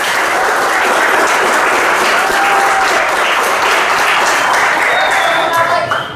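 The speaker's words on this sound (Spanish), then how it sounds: "vamos a darle un fuerte aplauso" A classroom audience applauds students after their final project presentation in an information technology fundamentals course, loud dense clapping that holds steady throughout and trails off near the end, with faint voices underneath.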